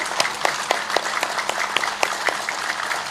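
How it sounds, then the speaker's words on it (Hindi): Loud, sharp hand claps from a yoga exercise repeat at a steady quick rhythm, about three to four per second. Each clap is crisp and close, with no talking over them. "एक बार ऐसे जोर से ताली जो बजा लेंगे"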